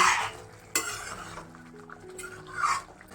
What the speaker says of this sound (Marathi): भाजी आता हलवून घेऊया आपण केळीचे काप शिजले की नाही बघू